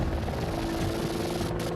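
An Apache attack helicopter drones in a steady, dense rotor and engine roar, loud and continuous with no pauses.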